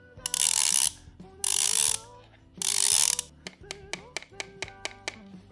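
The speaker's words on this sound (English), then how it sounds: "You can tighten it, loosen it depending on your head size by rotating this one." A KIWI Design replacement head strap for a VR headset has its back bracket dial turned, giving three bursts of loud close ratcheting followed by a run of separate, evenly spaced clicks.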